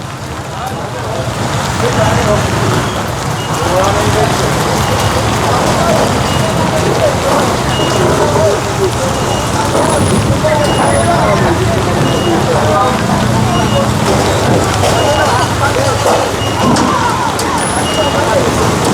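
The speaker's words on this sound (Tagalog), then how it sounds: "Lumalakas ang ulan." Heavy rain pours steadily on a Manila street in a dense, unbroken roar, with a faint rumble of traffic mixed in underneath.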